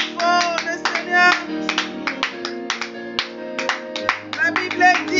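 A congregation claps in quick rhythmic bursts during a Friday midnight prayer service of a women's fellowship, loud and close, with singing voices layered over the hand claps.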